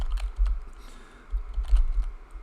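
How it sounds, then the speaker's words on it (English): Quick irregular clatter of typing on a computer keyboard while entering Python code, steady close keystrokes in short runs with a brief pause mid-way. "I want to start typing in the next line"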